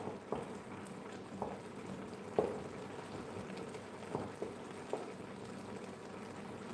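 Liquid simmers gently in a covered pot, a faint, low bubbling bed broken by occasional soft pops and plops at irregular intervals, with no talk over it.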